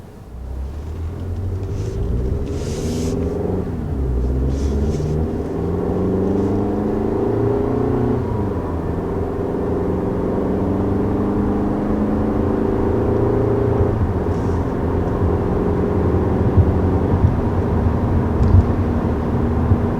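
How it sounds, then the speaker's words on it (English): Inside the cabin of a 2020 Toyota Camry, the engine drones and whirs steadily, rising and falling in pitch as it revs and accelerates, a continuous moderate rumble with no talking. "this engine is probably louder. We were talking about this. It is probably louder than other generations of Camry"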